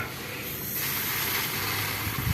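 Water sprays steadily onto layered plant growing medium for melons, a soft continuous hiss that grows a little fuller midway and stays close and even.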